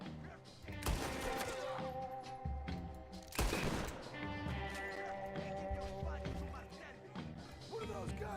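Gunfire in Red Dead Redemption 2, heard as scattered shots and a heavy blast amid a busy game soundscape with music-like tones underneath. Voices come in at moments, and the shots are irregular and mid-distance rather than a steady burst.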